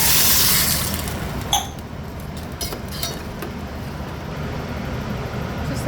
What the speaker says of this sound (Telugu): ఇప్పుడు ఇందులో మనము వాటర్ యాడ్ చేసుకోవాలి